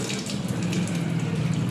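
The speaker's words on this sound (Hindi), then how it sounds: "3 महीने बाद आया पानी।" Water running from a household tap as supply returns after three months, a steady, fairly loud rushing hiss of flowing water, close and continuous with no talk.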